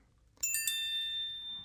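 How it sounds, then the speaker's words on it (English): Cell phone notification chime, a bright bell-like ding of a few stacked ringing tones that sustains and slowly fades, faint and slightly distant in a quiet room. "And that is my cell phone."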